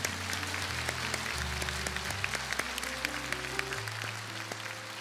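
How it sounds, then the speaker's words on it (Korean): A church congregation at a worship gathering claps in thanks, a soft, scattered patter of hands heard over sustained organ-like tones that shift pitch in the background. "우리 감사의 박수 올려드렸으면 좋겠습니다"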